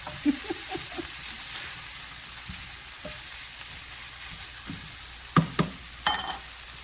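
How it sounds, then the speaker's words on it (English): Shrimp and broccoli cook in a pan with a steady, even sizzle and hiss, close and moderately loud, with a few brief utensil knocks and scrapes near the end. "we just want to cook this for like another minute or two just to, make sure we've got the shrimp and broccoli heated up"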